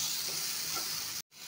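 Bitter gourd crackles and hisses as it fries in a pan, a dense sizzle close up that cuts off abruptly for a brief moment before resuming.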